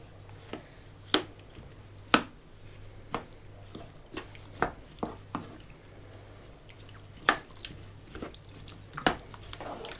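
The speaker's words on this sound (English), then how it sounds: "give it a good stir so everything's all mixed in" A spoon stirs a slow-cooked vegan potato and chickpea curry with coconut milk and spices, making a series of separate wet knocks and scrapes against the pot at irregular intervals.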